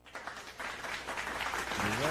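Live studio audience clapping, a continuous patter of applause that swells louder toward the end, mixed with voices talking over it.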